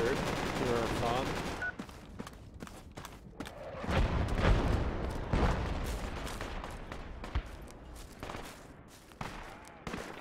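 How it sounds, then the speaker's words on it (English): Mortar impacts and gunfire in the Project Reality video game, with sharp repeated shots and a heavy booming blast midway, loud and close, mixed with a speaking voice. "Looks like we got mortared through our bomb."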